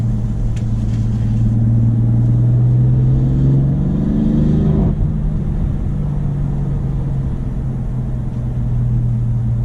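A BMW M3 F80 with a twin-turbo engine pulls out of corners, its loud in-cabin drone rising steadily in pitch under acceleration, then dropping back to a steady rumble.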